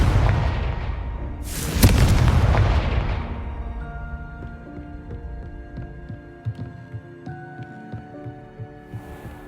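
A Confringo blasting spell explodes in Hogwarts Legacy with a deep booming burst that rolls off into a long rumbling decay, followed by faint low thuds and ambient game tones.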